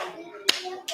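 Sharp single hand claps in an online numeracy counting exercise, two distinct claps about half a second apart over soft background voices.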